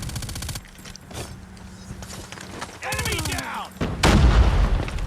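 Rapid automatic gunfire from an MG82 machine gun in the Call of Duty Mobile game, sharp bursts of shots repeating through the clip amid other game effects, with a loud burst near the end.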